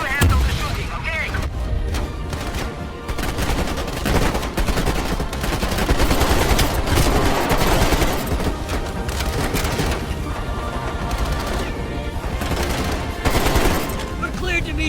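Heavy gunfire in Call of Duty Black Ops Cold War, with sustained automatic bursts and booming blasts running through the whole stretch, loud and dense, while voices and music mix in underneath.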